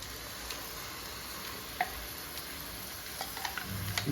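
An onion and coconut paste fries in hot oil with a faint, even sizzle, while a spoon stirs it with a few light scrapes and taps toward the end.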